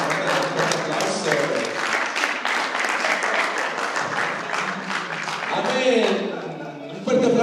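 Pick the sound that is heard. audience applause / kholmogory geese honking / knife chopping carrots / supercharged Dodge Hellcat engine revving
audience applause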